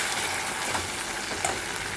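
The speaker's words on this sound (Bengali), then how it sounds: "দিয়ে দেবো একটা টমেটো, যেটা আমি সেদ্ধ করে খোসাগুলোকে ছাড়িয়ে রেখেছিলাম।" A boiled, peeled tomato sizzling in a hot frying pan, a dense, steady close-up frying hiss with faint soft bumps beneath.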